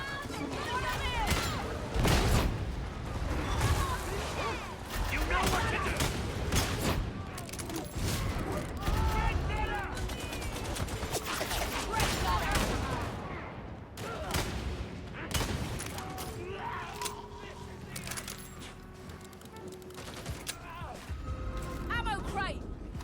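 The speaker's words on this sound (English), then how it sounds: "saturated fire" Heavy sustained gunfire in a video game, a dense barrage of shots and explosions that fills the whole stretch, with a voice talking excitedly over the din.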